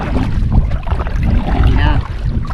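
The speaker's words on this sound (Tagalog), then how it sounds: "Parang malakas pa yung agos ha" A strong river current rushes loudly and continuously, a dense close-up wash of flowing water with no pauses and no talk.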